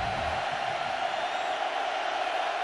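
Crowd roar at a college football stadium on third down, Oklahoma at Oregon, a loud steady wash of noise held throughout.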